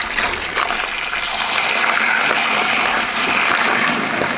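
Water gushes steadily from a tap into a container for washing brass cartridge cases, a loud, close, continuous rush with no break.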